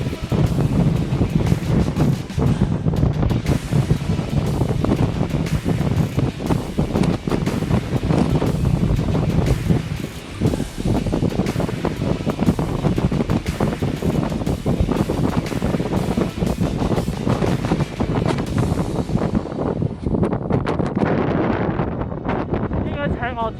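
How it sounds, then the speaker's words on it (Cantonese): Strong winter wind on the Akadake summit ridge in the Yatsugatake range, Nagano, buffets the microphone in loud, continuous gusts with roaring bursts throughout. "超級大風喺度"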